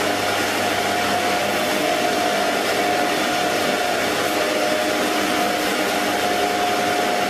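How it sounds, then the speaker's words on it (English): TIG welding a plate onto a stainless steel pump frame on site, a steady, even hiss with a faint high whine that holds unbroken and moderately loud the whole time, with no voices. "Just welding this plate onto the frame."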